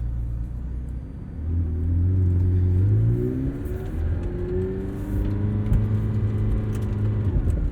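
A 2021 McLaren 720S coupe supercar pulls away from a standstill in first gear, its engine note rising and swelling from a low idle rumble into a loud, steady drive, heard close from inside the cabin with no talk.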